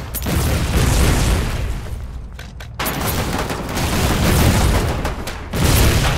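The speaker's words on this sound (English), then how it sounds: "It's not counter mortar. It's friendly mortar." Mortar shells burst in the war game Foxhole, a series of loud, booming explosions that repeatedly swell and fall, with a short lull between blasts.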